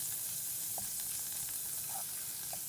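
Butter melts over low heat in a pan, giving off a soft, steady sizzle with a few faint scrapes as it is stirred around.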